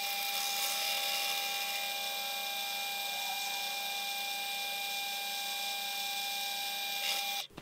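Steady, whining machine drone of a drill with a brad point bit boring continuously for several seconds, then stopping abruptly at the end.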